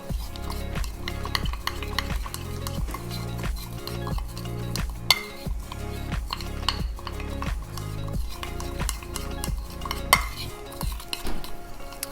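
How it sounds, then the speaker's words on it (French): A plastic spoon stirs Jesmonite paste in a container, a regular scraping and knocking rhythm of repeated strokes with a couple of sharper clinks, close and fairly quiet. "Donc là on mélange bien jusqu'à ce que la pâte elle soit homogène."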